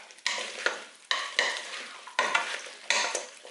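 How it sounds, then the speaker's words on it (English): Fruit pieces, including banana and orange, being mixed firmly with a wooden spoon in a bowl, a run of wet, squelching strokes in regular rhythm, each swelling and fading, close up with no voice. "I've just got a wooden spoon. I'm just going to mix the fruit up."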